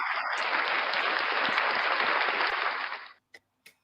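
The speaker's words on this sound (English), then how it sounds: "round of applause for the best fans in the world, you guys" An audience gives a round of applause, dense clapping that holds steady for about three seconds, then cuts off, followed by a couple of brief isolated knocks.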